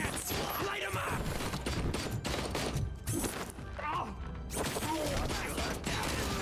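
Dense, relentless gunfire from RoboCop: Rogue City hammers away in rapid overlapping shots and impacts, loud and continuous throughout with a voice faintly underneath.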